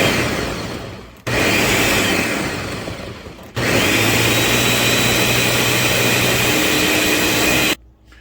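A blender pureeing green spaghetti verde sauce, a loud roaring motor in two long runs broken by short pauses, then cutting off abruptly, close and without talk.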